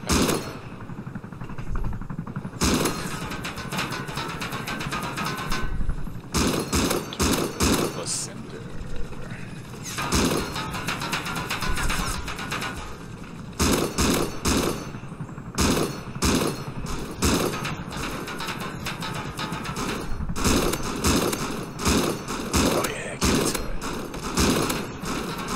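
In Rust, a helicopter's double turrets fire repeated bursts of gunfire, dense stretches of rapid shots broken by brief pauses across a long engagement, with a voice talking throughout.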